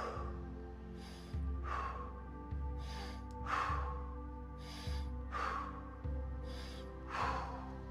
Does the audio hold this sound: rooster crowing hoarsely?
no